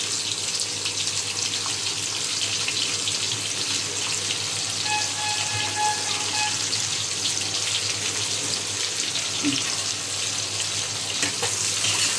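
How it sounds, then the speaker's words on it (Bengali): Onions frying over a high flame for a hilsa fish-head kalia with brinjal make a loud, constant, dense hiss that holds steady for the whole stretch, with no voices. "হাই ফ্লেমে পেঁয়াজগুলো একটু লাল লাল করে ভাজবো"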